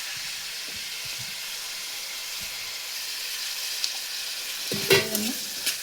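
Tomatoes frying and sizzling in a pan: a steady close hiss of sizzling with soft stirring clatter, and a louder burst of spluttering near the end as more goes into the pan.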